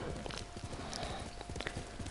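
Galloping horse hooves in the open-world samurai game Ghost of Tsushima, a steady rapid clip-clop rhythm throughout, close and moderately loud over game ambience, with a brief whinny-like cry.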